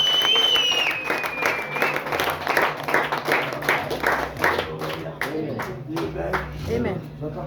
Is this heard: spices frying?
no